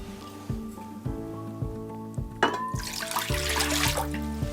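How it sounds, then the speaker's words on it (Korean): Water poured into a pot on an LG DIOS induction cooktop, a steady close splashing rush that builds toward the end after several soft clinks. "물 붓고"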